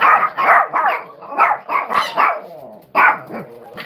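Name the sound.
chihuahuas barking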